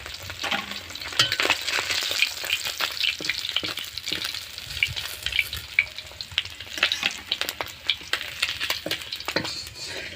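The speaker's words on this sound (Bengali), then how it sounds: "আমার ভাজা হয়ে গেছে, আর এই দেখুন দুপাশে আমি খুব লাল লাল করে ভেজে নিয়েছি।" Pieces of rohu fish fry in hot oil, giving a continuous close crackling sizzle with sharp spitting pops and scraping stirs throughout, no voices.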